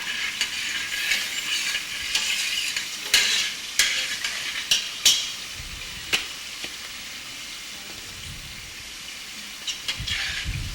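Beef jollof rice mixture with curry powder stirred in a pot, a bright frying sizzle punctuated by repeated sharp scrapes and clacks of the spoon at irregular intervals, close and without speech.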